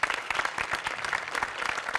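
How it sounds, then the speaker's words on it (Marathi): Studio audience applause on the Marathi comedy show Maharashtrachi HasyaJatra, a dense, steady burst of clapping from a large crowd, continuous and fairly loud for two seconds with no talk over it. "दोघांसाठी प्रचंड टाळ्या"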